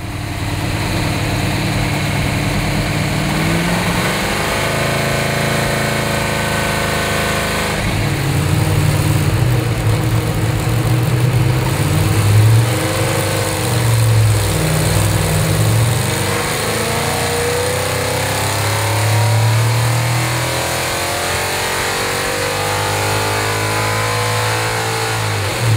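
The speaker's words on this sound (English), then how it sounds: "we allowed the engine to idle until the oil warmed up and then let her rip" A Chevrolet engine with reworked Chevy cylinder heads runs on a dyno, idling roughly before revving hard through repeated loud climbs and drops in pitch, close and with no talking.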